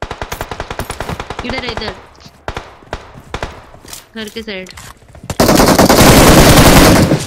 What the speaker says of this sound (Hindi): मेरे को गोलियां चलने की आवाज आती है।